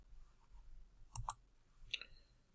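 Mouse clicks while running a Windows software installer: a faint quiet background, then a pair of sharp close clicks around the middle and another single click shortly after.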